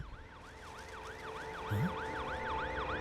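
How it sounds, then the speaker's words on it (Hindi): An ambulance siren wails in a steady rising-and-falling cycle, fairly faint and distant, over low background noise with a brief low horn-like sound partway through. "यहाँ पर एम्बुलेंस आ गई है।"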